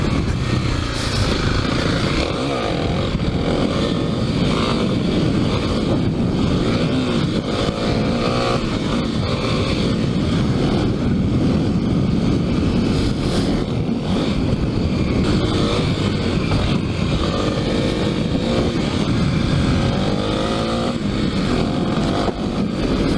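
A Kawasaki KLX300 dirt bike on new knobby tires rides a dirt trail and pulls a wheelie, its engine droning and revving loudly throughout under heavy wind buffeting on the microphone.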